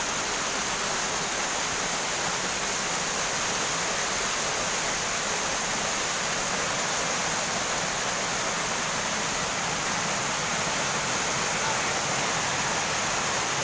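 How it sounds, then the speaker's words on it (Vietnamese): A wild waterfall at Lung Chiêng in Phúc Sơn, Chiêm Hóa, Tuyên Quang roars loudly and steadily, a dense unbroken wash of falling water filling the whole stretch with no voices. "Trong video cái tiếng thác nó đổ ồn một tí các bạn thông cảm nha."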